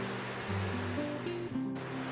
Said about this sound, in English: Here our milk is boiling.